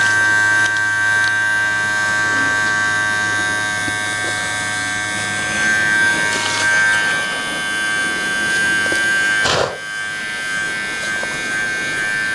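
Hair clippers trim a boy's hair close by with a steady electric buzz. The hum shifts slightly as the blades work through hair, and a brief knock sounds near the end.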